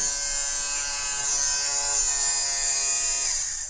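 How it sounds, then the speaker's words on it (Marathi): A small electric thread trimmer for sewing running steadily, giving a continuous high buzzing whine with a faint tonal hum and no speech over it. "आणि अगदी लहान मुलंसुद्धा हे ट्रिमर वापरू शकतात"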